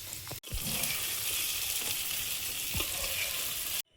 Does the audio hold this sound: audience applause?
no